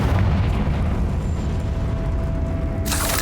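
Fiery spell blast of Confringo in Hogwarts Legacy, a loud sustained booming roar with a rumbling low end that persists for seconds before a brighter hissing burst at the end; no talk.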